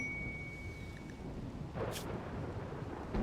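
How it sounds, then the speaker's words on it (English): Steady rain hiss with a single rumble of thunder midway through a rainstorm in the video game RimWorld, faint and continuous with no talk. "It's raining."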